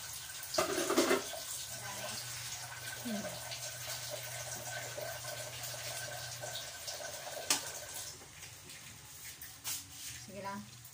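Water is poured into a cooking pot of pancit with cabbage in a home kitchen, a brief splashing pour followed by low kitchen hum, faint clatter and soft background voices.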